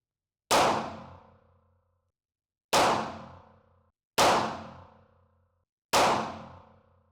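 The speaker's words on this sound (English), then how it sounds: "Firing 357 is, to me, not very pleasurable, but we'll give it a whiz and see how it is." Four sharp reports from a Ruger SP101 snub-nose revolver firing .357 Magnum rounds at a shooting range, spaced about one to two seconds apart, each loud and close with a quick ringing decay and no talking.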